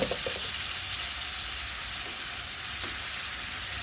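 Chicken marinade broth hits a hot pan with sweet and sour spicy chicken, giving a loud, continuous sizzle and frying hiss close up, with a few faint stirring scrapes.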